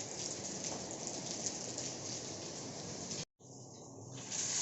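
Light drizzle falls at a campsite in the Capolaga nature area of Subang, a steady soft hiss of rain that fills the space evenly, broken by a brief cut to silence near the end.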